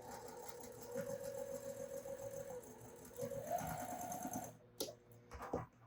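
A sewing machine stitches curved fabric pieces together with a steady mechanical whir that rises and falls. It stops near the end, followed by a few soft clunks.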